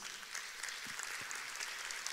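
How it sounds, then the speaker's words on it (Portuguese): Congregation applauding in a church service, a faint continuous patter of many hands clapping at a distance, steady through the short stretch. "você pode aplaudir o nome de Jesus"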